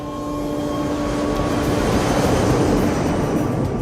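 Twin aircraft engines drone steadily as power is shifted between left and right engines to steer a damaged plane, a loud, constant roar with steady tones that swells slightly midway, with no talk.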